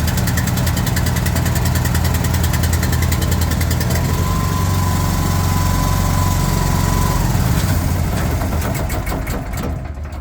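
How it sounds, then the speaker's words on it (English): A small gasoline engine on a DEF squirt trailer runs steadily and loudly close by, a continuous buzzing drone with a faint whine partway through, easing slightly near the end. "Once it's started, you push in the choke and the motor should run freely."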